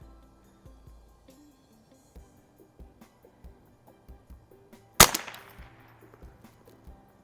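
A single sharp, close crack from a 1950s Browning SA-22 .22LR semi-automatic rifle at a range stands out above faint, quiet background tones and soft ticks before and after it.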